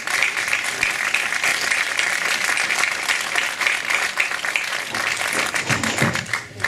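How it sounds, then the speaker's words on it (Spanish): Audience applause fills a conference hall after a talk on water, steady dense clapping throughout with a slight fade near the end. "Un aplauso para Abel"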